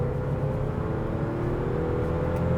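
A small Audi A1 hatchback with a three-cylinder engine hums steadily from inside the cabin while driving, a low, even drone with a faint tonal whine and no talk.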